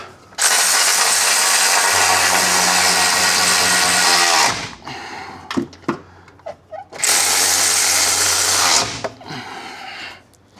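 Power tool tightening bolts on a Holden V8 differential in two long, loud whirring bursts of several seconds each, with clanks and tool handling in the gap between.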